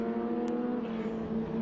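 An Echidna race car at a road course drones steadily with a strong, even engine tone held through the gears, sounding close and fairly loud, with no talk.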